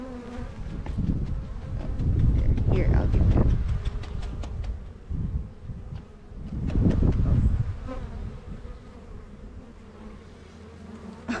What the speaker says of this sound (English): So the male bee or drone, you can touch them. You can hold them.